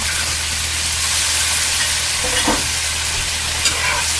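Rum, vanilla and raw sugar simmer in a pan, giving a loud, steady hiss and bubbling sizzle throughout, with a faint clink near the middle.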